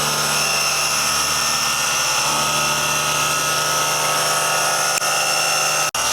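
A cordless polisher set to speed 3.5 works on gloss black trim with a loud, steady high-pitched whir running continuously close by, with a brief dip near the end.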